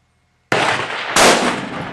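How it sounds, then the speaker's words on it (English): A Remington 700 .308 rifle firing 168 grain ammunition at a body armor hard plate 25 yards away gives a sudden loud crack after silence, with a second burst about a second later and a lingering rumble. "We shot it with a Remington 700 308 with 168 grain ammo at 25 yards."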